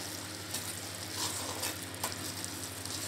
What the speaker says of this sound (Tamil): நல்லா சுருளை சுருளை வதக்கிடுங்க.